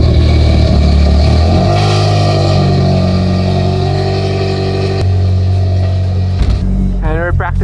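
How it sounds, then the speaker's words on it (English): A Mazda Spec Miata's engine runs loud and close after a cold start, with revving and a steady, rough engine drone throughout, and people talking over it near the end. "we're in the Spec Miata cold start"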